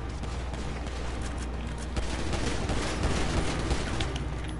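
Dense, continuous gunfire from a PS4 shooter game, with rapid overlapping shots and bursts forming a loud, unbroken barrage for several seconds.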